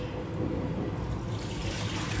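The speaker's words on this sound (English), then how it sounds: "So I put more water" Water pours steadily and loudly from a tap into a pot of black-eyed beans on the stove, a continuous splashing fill with no talking.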